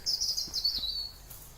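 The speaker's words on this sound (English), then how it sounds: "Just listen to those birds." Bright, high bird chirps and a short trill ring out briefly in a forest, fairly faint against a quiet outdoor background.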